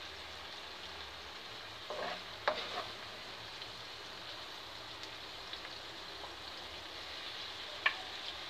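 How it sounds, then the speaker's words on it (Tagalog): Ground meat fries with a quiet, steady sizzle in a pan, with a few soft scraping clicks as it is stirred. "lalagay ko na yung karne, yung giniling"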